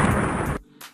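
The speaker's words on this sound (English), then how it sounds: "the explosions, the booms, like these, and cutscene to explosions like this" A single loud, deep explosion boom fills the first half-second, then cuts off abruptly, followed by a faint short burst of noise.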